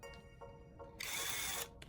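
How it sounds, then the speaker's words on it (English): A small drill bores a hole through the side of a short piece of copper tubing held in a vise, a brief close whir rising into a harsh grinding burst for under a second. "carefully drill a small hole through its side"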